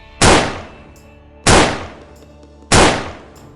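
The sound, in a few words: three gunshots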